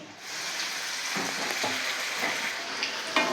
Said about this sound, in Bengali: এখানে তেল গরম হয়ে গেছে এক একটা করে তেলের মধ্যে দিয়ে দেবো